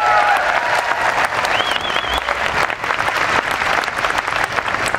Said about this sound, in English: If you could give them a round of applause, please.